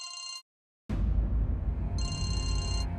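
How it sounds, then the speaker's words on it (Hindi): A phone rings with a bright electronic tone, breaks off for a moment of silence, then is buried under loud rumbling noise as the ringing returns faintly in the background. "या हेलो जीविका, कब से फोन कर रहा हूँ, कहाँ थी तुम?"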